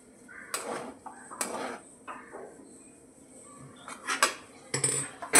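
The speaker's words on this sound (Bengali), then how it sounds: "বাদামটা ছড়িয়ে দিই।" Peanuts scattered over noodles in a cooking pan, heard as a few sharp clinking taps and light rattles against metal spread across several seconds, close and fairly quiet, with no talking.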